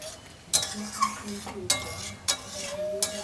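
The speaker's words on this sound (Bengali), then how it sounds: "একটু নেড়ে চেড়ে নিলাম।" Paneer curry cooked with ghee is stirred in a pan: about four distinct spoon-scraping strokes over low frying noise, close and fairly loud.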